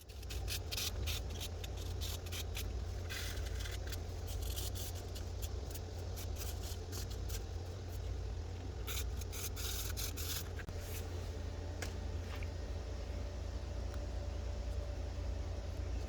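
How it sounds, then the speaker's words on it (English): Steady, close scuffing and rubbing of a 150 grit sanding sponge across painted wood, continuous and fairly quiet with no voices. "I'm going to take this 150 grit sanding sponge, and we're going to scuff these edges"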